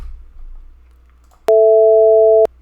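Two pure sine tones a fifth apart, generated in Numpy, sound together as a steady, clean electronic chord for about a second after a near-silent start, then stop abruptly.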